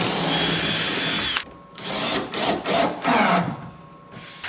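A power drill whirs continuously, then drives screws into a roll top desk in several short bursts with pauses between, close and loud.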